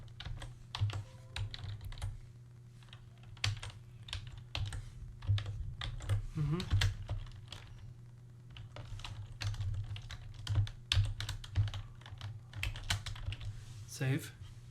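Fingers type steadily on a computer keyboard with brisk, close clacking bursts and short pauses, over a low hum, and a mouse click or two near the end.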